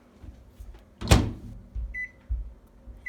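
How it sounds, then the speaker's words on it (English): A stick of butter goes into a microwave oven to melt: low muffled handling thumps, a sharp clack of the door or keypad, then soft rumbles and a brief electronic beep. "Our stick of butter is going to go into the microwave for about 40 seconds until it is melted."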